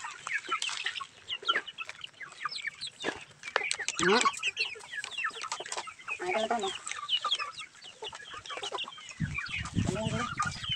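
Many chickens cluck and chatter busily up close in an overlapping flock, with a brief voice speaking near the middle.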